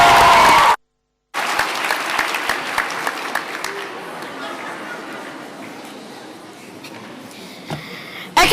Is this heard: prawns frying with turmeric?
no